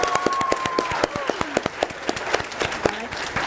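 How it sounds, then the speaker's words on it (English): An audience at a high school quiz bowl final gives a round of applause, dense scattered claps from a fairly close crowd with a few brief voices cutting through. "Let's give a round of applause."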